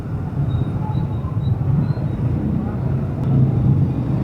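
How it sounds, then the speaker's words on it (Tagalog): Heavy road traffic heard while riding an automatic motorcycle: a dense, steady rumble of engines and tyres on the road, loud and continuous throughout. "Grabing traffic par."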